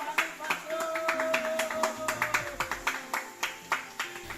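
Repeated hand clapping at a steady, fairly quick rhythm, close and moderately loud, with a sustained tone and voices running underneath.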